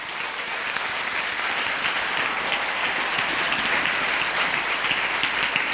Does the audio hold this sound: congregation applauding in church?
yes